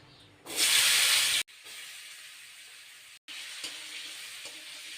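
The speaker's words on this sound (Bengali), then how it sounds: "আলুটা গোটা গোটা করে কেটে নিয়েছি এখন এগুলো আমি বেজে নেব" Chopped potato chunks dropped into hot oil in a pan with bay leaves and whole cumin, a loud burst of sizzling that settles into a steady hissing fry, briefly cut off twice.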